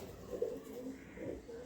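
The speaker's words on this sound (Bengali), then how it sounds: "এটা মাদি পায়রা।" A female pigeon coos softly, giving two low, throaty phrases close by in a quiet setting.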